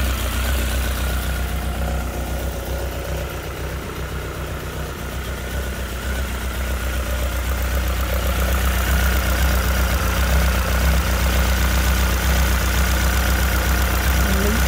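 Honda CB1300 motorcycle engine idling with a steady, even tick over, close and loud throughout, carrying a low rumble with a slight rise in level partway through.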